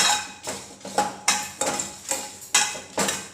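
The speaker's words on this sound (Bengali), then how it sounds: "সেগুলো দিয়ে কড়াইতে দিয়ে আমি কিছুক্ষণ ভাজব" A metal spatula strikes and scrapes a wok while dry-roasting spices and dried red chillies, in a steady rhythm, about seven sharp clanks, each with a brief ringing tail, up close.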